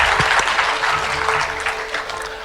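Brief burst of audience clapping during a televised interview event, a dense patter of hands lasting a couple of seconds, fairly close and loud with no speech over it.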